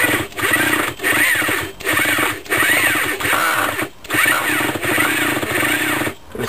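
Nitro RC car engine being pull-started with a glow igniter, heard as repeated loud ratcheting pulls of the starter cord, about eight close rhythmic strokes without the engine catching.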